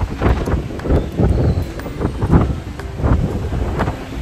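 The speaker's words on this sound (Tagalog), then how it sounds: "sobrang hangin." Strong wind blasts across the microphone on the open Saigon Skydeck, with heavy buffeting gusts that rise and fall in rough, uneven surges.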